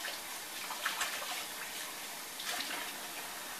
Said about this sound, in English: Let me rinse this out first.